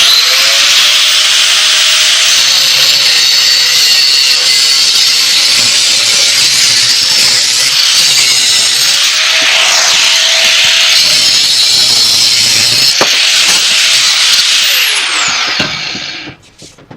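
A power saw cuts steadily through a 1948 Chevrolet steel exhaust pipe, trimming about three inches off the end. The loud, continuous grinding whine holds for roughly sixteen seconds and then stops abruptly.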